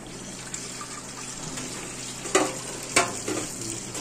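Egg and cabbage fry together in a pan for an afternoon snack, giving a continuous close sizzle broken by a couple of sharp stirring scrapes.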